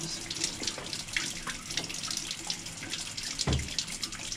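Running water from a tap rinses paint out of a brush, a steady faint splashing stream with small spatters and one brief louder gush near the end.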